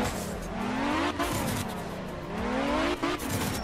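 A high-pitched rally car engine in art of rally revs up through the gears, its whine climbing steadily with each shift and a brief dip between them, loud and close, with no talk over it.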